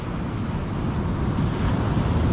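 Waves washing onto the shore at Depok Beach, a steady broadband roar of surf swelling slightly louder, mixed with wind buffeting the microphone; no voices.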